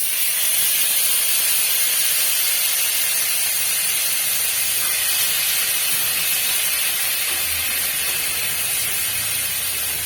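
A paste of onion, tomato and cashew hits a hot pan and sizzles loudly and steadily, a dense, continuous hiss close up for the whole stretch, with no voices.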